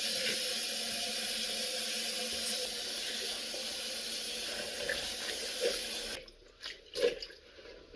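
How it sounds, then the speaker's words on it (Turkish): Wild karabaş herbs gathered from a field are rinsed under an outdoor tap, water running in a steady continuous hiss and splash for most of the time before breaking off into a few short bursts near the end. "Tarladan toplamış olduğumuz karabaş otlarını çeşmede iyice yıkıyoruz"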